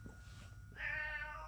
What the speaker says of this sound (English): That's why he's meowing so much.